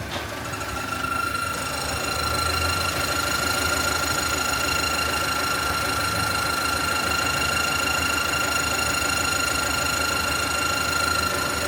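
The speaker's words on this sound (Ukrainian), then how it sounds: "Звук схоже йде від щеплення." A GAZelle Business van engine runs with an odd noise from a newly replaced clutch, a steady mechanical drone topped by a high, sustained whine and a fast rattling tick, close and continuous throughout.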